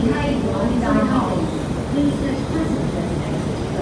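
An MTR metro train pulls into Prince Edward Station, a steady low rumble and rolling rail noise building beneath voices and station hubbub for a few seconds.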